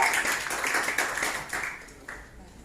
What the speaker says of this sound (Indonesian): Kita kasih aplaus semuanya untuk kalian